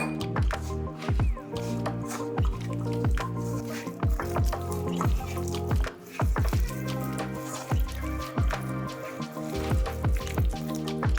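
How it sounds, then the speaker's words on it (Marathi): Gram-flour batter for crispy onion pakoras squelches in rhythmic, close, wet pulses as water is added and the batter is mixed by hand. No one talks. "आता यात आपण थोडंसं पाणी टाकूया"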